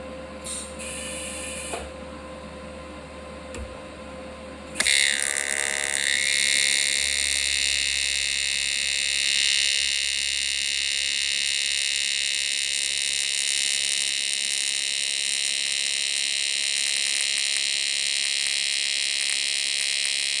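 A Weld Pro TIG 200GD welder with a CK torch pulses its arc at a raised pulse rate, making a steady, loud electrical buzz with a high whine. It starts abruptly and holds unbroken with no talk.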